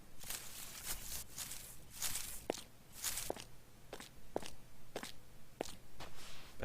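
Video game footsteps in CopperCube 6 crossing sand, rock and bushes, a series of crunchy steps at an even walking pace, close and fairly loud, with the texture shifting between surfaces and no speech.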